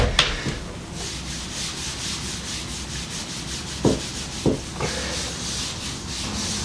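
A light sanding block glides over filler on a plasterboard ceiling, giving a steady, soft, close scratching hiss, with a few sharper scrapes partway through.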